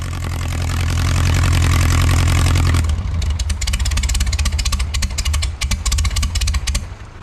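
A 1600cc engine in a Baja Bug truck, leaking fuel, runs loud and close with a steady clattering idle that drops to a rougher, uneven throb about three seconds in, staying loud throughout.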